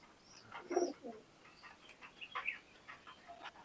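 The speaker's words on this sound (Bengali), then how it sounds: "এখানে এক জোড়া সাকি জেনারেশনের কবুতর দেখাচ্ছি ভাই" Pakistani high flyer pigeons in a loft give soft, intermittent coos and calls, moderately near and fairly quiet, with small ticking sounds between them and no talk.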